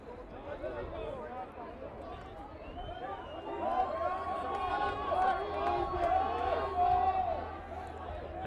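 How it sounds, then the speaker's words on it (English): Spectators at a Brackenfell RFC versus UCT Ikey Tigers rugby match make a rising din of shouting and chatter, a dense crowd roar swelling louder partway through with individual voices calling out above the babble. "the crowd is also getting in on the action now, just making sure that they voice their opinion for what it's worth"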